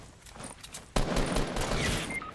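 Gunfire in the Fortnite video game, where quiet background clatter gives way to a sudden sharp shot followed by a dense crackle of rapid reports, fairly close and without talking.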